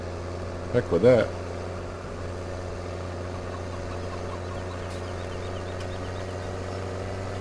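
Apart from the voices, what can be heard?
tractor engine in Farming Simulator 17 video game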